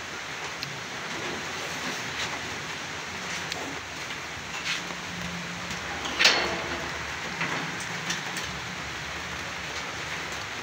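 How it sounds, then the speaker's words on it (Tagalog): Rain falls steadily in an outdoor rural setting, a soft continuous hiss with occasional louder drips and taps, fairly faint and with no talk. "Ayan, dito na sa amin yung ulan."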